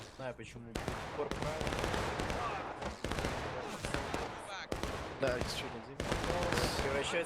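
Musket volleys crackle in War of Rights during a river-crossing battle, repeated ragged bursts of massed fire every second or so, with people talking over the shooting.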